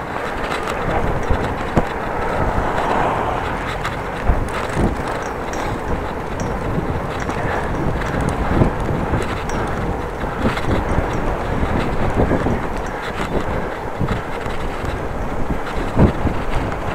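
Wind buffets a microphone while someone cycles headlong into it, a steady, loud, rumbling roar with gusty thumps that lasts throughout, with no other clear sounds.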